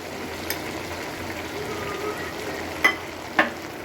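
Mixed vegetables fry in a pan as butter is added, giving a soft, steady sizzle with a few sharp crackles and spatters standing out near the end.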